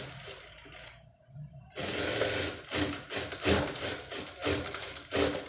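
Sewing machine stitching slowly over a sari studded with stones, a run of uneven mechanical clatter broken by a short silent pause near the start.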